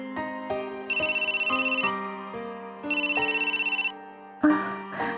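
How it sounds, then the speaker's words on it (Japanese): A telephone rings in the visual novel game Moekan, a synthetic ringtone melody of stepped electronic tones in two bursts with a fast warbling trill, clear and close, followed by a brief extra chime. "電話。"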